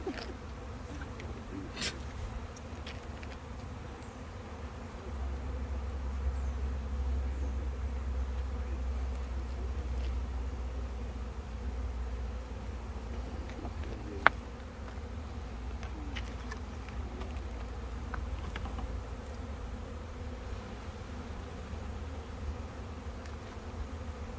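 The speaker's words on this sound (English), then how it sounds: "Look at the bees attacking" Dense, steady buzzing of many honey bees swarming close by around a hive, a continuous droning hum that persists throughout with occasional faint clicks.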